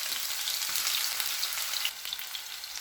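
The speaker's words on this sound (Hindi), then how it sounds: "1 मिनट तक पेस्ट को फ्राई कर लेंगे।" Ginger garlic paste sizzles steadily in hot cooking oil in a pan, a dense, bright crackle that holds even and close, then eases slightly quieter toward the end.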